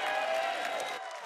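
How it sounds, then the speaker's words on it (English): Audience applause and cheering at the Awesome Games Done Quick 2020 charity speedrun marathon, greeting the Binding of Isaac Afterbirth+ run. The dense crowd noise holds steady and fades slightly near the end. "Give him a round of applause."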